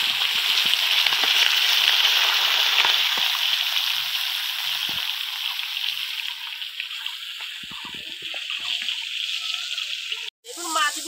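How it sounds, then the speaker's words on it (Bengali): Small chital bele river fish coated in chili, salt and turmeric fry in hot oil, giving a bright steady sizzle that fades gradually, with a few soft clinks and a brief pause near the end. "এবার আমি মাছগুলো ভেজে নেব।"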